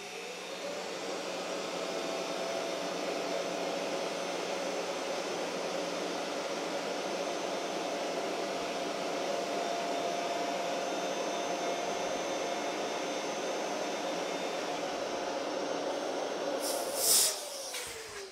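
A sander's vacuum hose draws air out of a veneer vacuum bag in a woodworking shop, producing a steady, close whooshing suction roar that holds evenly throughout, with a brief clatter near the end.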